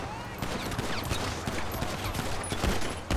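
Gunfire in the GTA 5 video game, a dense rapid crackle of game shots running steadily through the whole stretch at a loud, busy level, with a few sharper bursts standing out.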